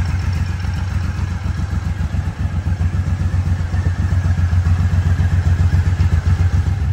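A Suzuki M109R motorcycle engine runs at idle just after being restarted, a loud, close, pulsing V-twin throb with steady rapid low beats and light mechanical clatter throughout, with no voices.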